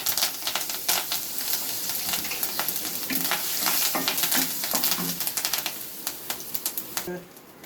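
Curry leaves crackle and sizzle in hot ghee and oil while tempering for a three-dal cabbage kootu, a steady close frying hiss dotted with sharp pops and faint stirring, with no speech.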